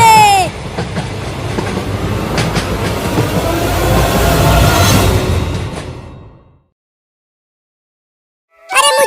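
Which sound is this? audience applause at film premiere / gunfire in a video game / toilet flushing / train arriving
train arriving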